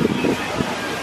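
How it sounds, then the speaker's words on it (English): Strong wind buffets the microphone outdoors near the water, giving a low, rumbling roar with gusty swells, and a voice talks faintly underneath. "And it's really windy right now."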